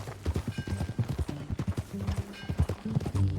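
Rhythmic clip-clop of horse hooves trotting at a steady pace in the video game Red Dead Redemption 2, close and clear, with no voices over it.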